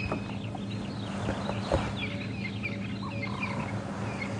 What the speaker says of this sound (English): And like I said, crested francolins.